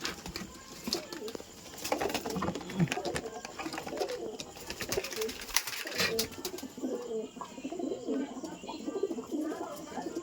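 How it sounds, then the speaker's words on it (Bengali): Pigeons coo repeatedly inside a coop holding about eighteen birds, soft throaty calls overlapping with wing flutters and shuffling, while a person talks intermittently. "এখানে 18 পিস পায়রা আছে, ন জোড়া খোপ।"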